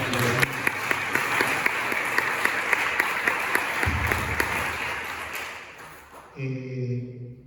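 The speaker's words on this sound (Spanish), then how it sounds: "Un aplauso ya." Audience applause at an outdoor summer gathering in Nalda, a dense steady clapping sustained for about six seconds before it breaks off and a voice starts talking.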